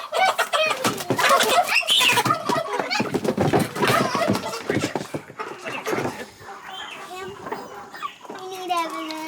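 Young chickens clucking and squawking as they are moved from a barn brooder into chicken tractors on pasture, close and busy, mixed with children's and adults' voices and handling noise.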